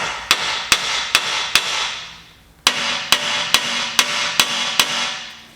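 Hammer blows ring out against the rusted brake rotor studs of a Honda Civic: four sharp metallic strikes, a short pause, then six more in a steady rhythm, loud and close.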